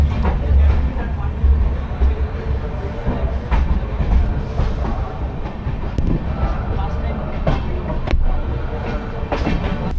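An Amrit Bharat Express train pulls out of Patna station, its wheels rumbling and clattering over the rails in a steady, close roar with occasional sharp clanks and faint voices behind.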